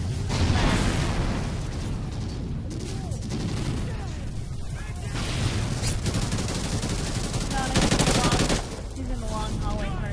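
Gunfire from the video game Call of Duty: Ghosts rattles in repeated bursts and single shots over several seconds, with booms and in-game noise underneath and a player talking over it.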